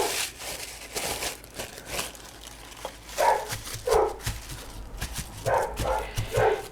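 Several dogs bark in short repeated bursts from a moderate distance, loud and uneven, with indoor rustling between barks and no one speaking.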